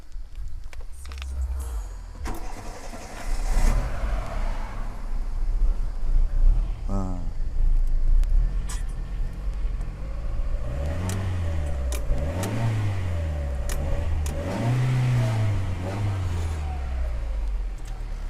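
A car engine running on petrol idles steadily, then revs up and down repeatedly in rising and falling surges, close by, with clicks and handling noises throughout.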